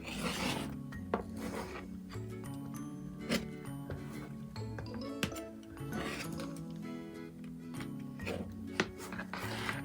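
Rotary or blade cutter slicing quilt fabric along a quilting ruler, heard as repeated scraping, rasping strokes with small clicks, close and steady throughout.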